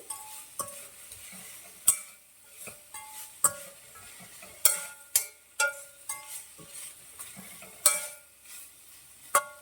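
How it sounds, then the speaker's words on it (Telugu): Cauliflower gobi fry being turned in a pan, a soft sizzle beneath repeated sharp clinks and scrapes of a spoon against metal, spaced irregularly and fairly close. "ఇంకా కొంచెం ఫ్రై అవ్వాలి."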